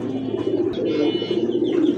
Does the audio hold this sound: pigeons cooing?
yes